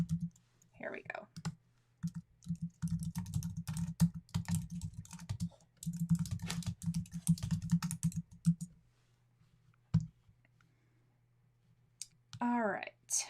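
Rapid clicking keystrokes on a computer keyboard come in dense bursts with short pauses, close and clear, while a low hum runs underneath and a voice speaks briefly at the start and end.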